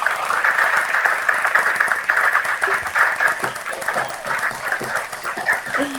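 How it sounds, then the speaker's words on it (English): Applause from a crowd at an online metaverse viewing party for a short film, a steady wash of clapping that runs the whole time without a break. "And one more round of applause for Marcelo,"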